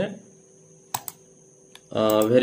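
A computer mouse or keyboard gives a few sharp, close clicks in a quiet room, with a short burst of voiced speech at the end.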